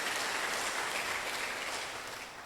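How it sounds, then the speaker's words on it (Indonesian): A church congregation claps together during a Wednesday faith-renewal service, a dense, steady patter of many hands that fills the room and then slowly tapers off. "Tepuk tangan dulu untuk sadarin."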